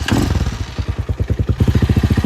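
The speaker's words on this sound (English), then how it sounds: "you just turn your bike on" A Honda Hawk 250 motorcycle engine fires up and runs alone with a steady, loud, throbbing idle, its close pulsing beat quickening slightly toward the end.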